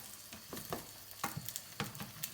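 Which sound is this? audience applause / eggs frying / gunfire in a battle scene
eggs frying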